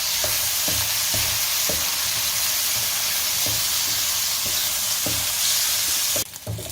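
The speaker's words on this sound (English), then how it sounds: "Give a good mix, good fry until it become a golden brown" Fish cake and fish balls fry loudly in a hot pan, a steady dense sizzle with periodic scraping stirs of a spatula, the sizzle briefly bursting louder near the end.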